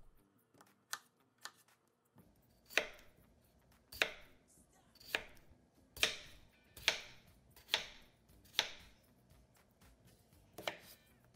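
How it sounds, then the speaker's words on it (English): A knife chops potatoes into cubes or slices on a cutting board, about a dozen crisp, evenly spaced thuds, close and clear with no talking. "We're gonna chop our potatoes into cubes or slices."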